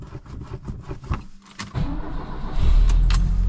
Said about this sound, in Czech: Ruský auto po půl roce a jede.